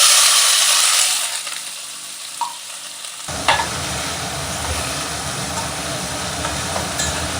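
Two medium chopped onions drop into hot spiced oil and burst into a loud, steady sizzle and crackle while being stirred, after a quieter opening of gentle frying, with an occasional clink of the utensil.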